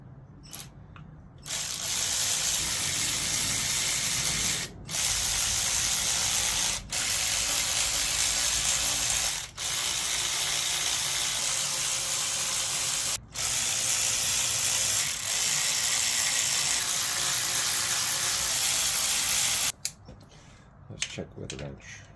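Ratchet run down on the valve cover screws of a 1995 Nissan Maxima during a gasket replacement, giving steady close clicking in long bursts separated by short pauses, with no talk over it.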